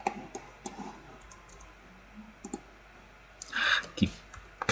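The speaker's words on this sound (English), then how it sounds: "Keep clicking too early." Sharp computer mouse clicks while modelling a pavilion structure in Rhino 8: scattered single and double clicks at an uneven pace, close and fairly quiet, with a denser burst near the end.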